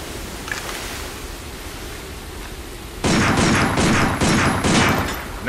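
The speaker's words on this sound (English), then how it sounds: "Take out your handgun and try shooting that sign." Handgun shots fired at a sign in the Binary Domain game: after a stretch of ambient hiss, a quick run of about six sharp, evenly spaced cracks rings out loud and close.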